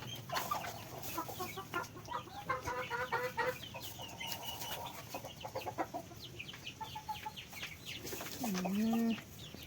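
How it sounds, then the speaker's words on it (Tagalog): Several chickens cluck and squawk inside a muddy coop in rainy weather, with repeated close, agitated calls and a loud drawn-out squawk near the end. "Kaya pala maingay kasi dalawang manok."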